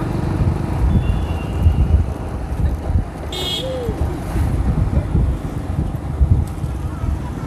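Steady coastal wind blows at Kothapatnam beach near Ongole, a loud, continuous rushing roar that buffets the microphone with gusty low rumbling.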